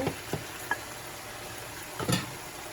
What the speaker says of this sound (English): I'm gonna add the onions, garlic, and ginger mixture back in